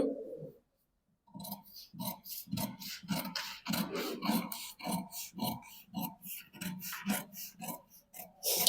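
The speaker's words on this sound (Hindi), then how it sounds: "फ्रंट के पार्ट का आउटर मैं कट कर रही हूँ अभी" Scissors cut fabric for the front outer piece of a corset blouse, giving a rhythmic series of close, crisp snipping and rasping strokes after a brief quiet start.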